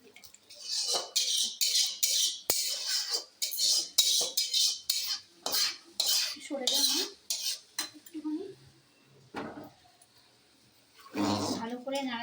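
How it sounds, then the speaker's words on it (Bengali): Spices being stirred into khichuri in a metal pot, giving repeated scraping and clattering strokes in bursts with short pauses, loud and close, with a person speaking briefly near the end. "নাড়াচাড়া করে দেবো"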